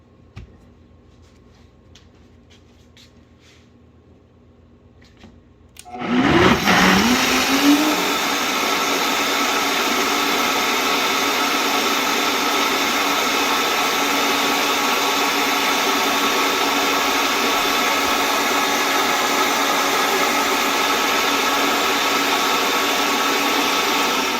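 After several quiet seconds, a kitchen blender switches on with a sharp surge and whirs loudly and steadily for nearly twenty seconds, mixing vegan pumpkin pie filling with cinnamon and essence.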